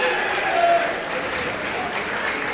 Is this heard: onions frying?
no